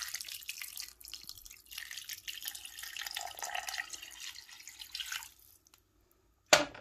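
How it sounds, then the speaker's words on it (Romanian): Water pours from a tap into a pot over pork meat for a Romanian roast, a steady splashing stream for about five seconds, then stopping, followed by a brief sharp clink. "Voi pune apă cât să acopere cărnița."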